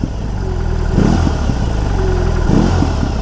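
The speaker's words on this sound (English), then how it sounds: "this engine, look at this, look at the rev" A BMW R18 motorcycle's big boxer engine idles with a steady low rumble, then blips twice in quick revs that rise and fall back, close and loud.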